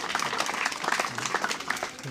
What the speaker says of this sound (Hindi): ज़ोरदार तालियों से स्वागत कीजिए आप लोग।